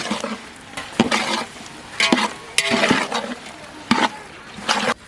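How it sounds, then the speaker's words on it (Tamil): Tomatoes stirred into ginger and garlic frying in oil for an egg gravy, with a steady sizzle broken by repeated scraping strokes of a spoon against the pan, close and fairly loud, with no talking. "தக்காளி சேர்த்து நல்லா கலந்து விட்டுக்கலாம்"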